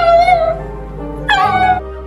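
A dog whimpers in two drawn-out, high, plaintive whining cries, close and loud with a short pause between them and no talk.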